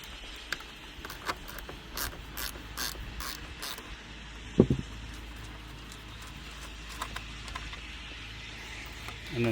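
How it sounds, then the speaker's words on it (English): A ratchet wrench backs out an 8mm headlight bolt on a Honda Grom motorcycle: a quick run of crisp, close clicks for a few seconds, then scattered knocks and handling noise. "next thing we're going to do is remove this bolt here."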